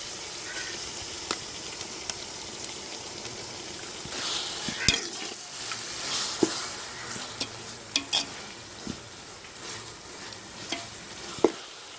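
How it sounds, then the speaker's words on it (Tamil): Ginger garlic paste sautéing with onions in a pan for village-style fish biryani: a continuous soft sizzle with sharp, scattered clicks and scrapes as the mixture is stirred. "இஞ்சி பூண்டு பேஸ்ட்டோட பச்சை வாசனை போகிற அளவுக்கு ஒரு 5 நிமிஷம் வதக்கிக்கோங்க"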